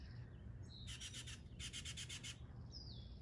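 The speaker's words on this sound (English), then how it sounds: "There's a hummingbird." A hummingbird outdoors in California gives thin, high chirps and a fast buzzy trill in two short bursts, faint and small against a quiet ambient hiss, with no voices.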